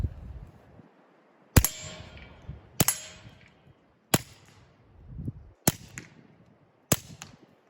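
Five sharp, suppressed pistol shots from a Smith & Wesson 22 Compact fitted with a Rugged Mustang suppressor, firing CCI standard velocity 40 grain .22 rounds at 1070 feet per second, evenly spaced about a second apart with quiet gaps between.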